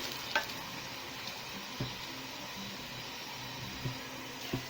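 Banana fritters fry in hot oil, giving a soft, steady sizzle with a few faint clinks and stirring knocks scattered through it.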